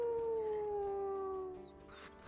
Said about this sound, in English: Yes, let's all howl.